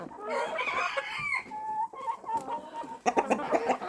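Several bold farmyard chickens cluck and cackle close by in irregular overlapping calls, with a burst of louder clucking near the end and no talk.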